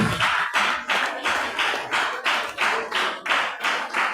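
Rhythmic unison clapping by a congregation at a Portuguese-language church mission service, about two claps per second in an even, steady beat, fairly close and without talk.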